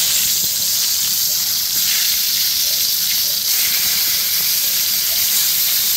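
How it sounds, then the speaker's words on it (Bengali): Eggplant slices frying in hot oil give off a steady, even sizzle that holds without a break from start to finish, close and fairly loud. "আমি বেগুনটাকে ভেজে নিব।"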